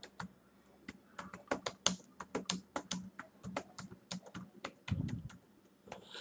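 Rapid keystrokes on a computer keyboard as text is typed, a steady run of close, crisp clicks with short pauses and one heavier thump near the end, no talking.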